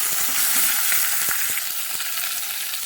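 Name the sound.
small onions frying in a pan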